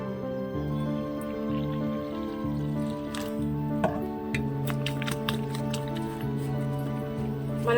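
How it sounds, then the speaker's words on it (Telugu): Water is poured into wheat dosa batter and stirred by hand, giving wet squishing and dripping sounds over a steady hum. "ఇప్పుడు వాటర్ యాడ్ చేసుకుందాం."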